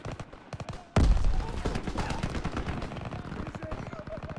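Dense gunfire rattles in the World War II shooter Call of Duty: WWII, with rapid automatic bursts, a heavy blast and continuous battle noise, loud and close.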